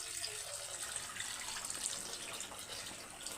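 Coconut milk pours into a pan of curry as the oil separates, giving a faint, continuous liquid rush that stays even throughout, heard close and alone.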